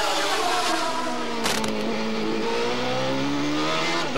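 Nigel Mansell's Newman-Haas Indy car on a flying qualifying lap around the bumpy Long Beach street circuit, engine screaming loud and steady at high revs, shifting pitch as it passes and pulls away.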